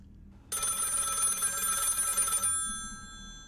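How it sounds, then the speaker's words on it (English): A telephone rings in the horror video game Whispers In The Pines: one loud, continuous old-fashioned bell trill lasting about two seconds, then fading out over a quiet background. "I'm not gonna answer the phone."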